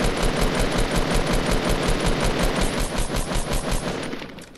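Rapid automatic assault rifle fire in a video game, a continuous close burst of evenly spaced loud shots that trails off at the end.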